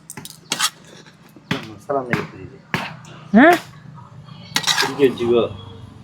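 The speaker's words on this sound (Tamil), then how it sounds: "பொறுமையாக அப்படியே மிக்ஸ் பண்ணிப்போம்" A metal spoon scrapes and knocks against a steel pot while biryani is stirred in a home kitchen, giving scattered clanks and scrapes at an irregular pace, with someone talking over them.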